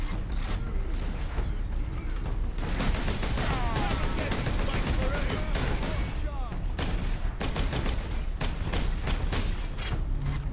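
Rapid, dense gunfire from a bolter, a heavy gun firing miniature rocket-like rounds, in the Warhammer 40K: Space Marine video game, sustained and loud throughout with explosive bursts and mechanical clatter, a voice talking over the battle.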